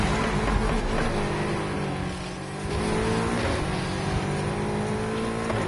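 A 400-plus rated race car engine in Need for Speed Heat drones loud and close, its pitch gliding as it revs and shifts through a sustained run, with no talk over it.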